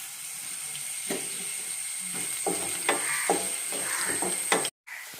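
Chillies and spices for a carrot mango pickle fry in hot oil with a steady sizzle, and sharp stirring clinks and scrapes land in an uneven rhythm, then stop abruptly.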